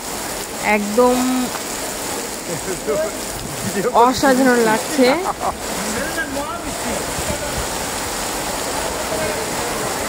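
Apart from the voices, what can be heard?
heavy evening rain falling outside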